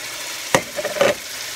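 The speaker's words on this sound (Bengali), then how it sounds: "ধনে পাতা দিয়ে আবার আমি ভেজে রাখি" Canadian fish fries in a pan with green chillies, a soft hiss with a brief stirring clatter and sizzle lasting under a second.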